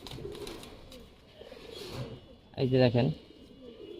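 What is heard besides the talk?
pigeons cooing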